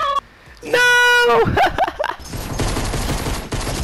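Rapid bursts of gunfire in the video game Fortnite, loud and dense, following a honking tonal game sound, with a player speaking over it.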